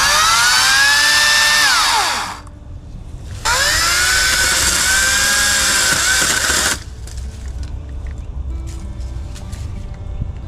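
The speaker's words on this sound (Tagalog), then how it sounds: "so nakahiram na tayo ng chainsaw mga kainags" A borrowed chainsaw cutting tree branches in Edmonton, Alberta, revs loudly in two bursts of several seconds each, with pitch sweeps as it bogs down, then drops to a low idle sputter.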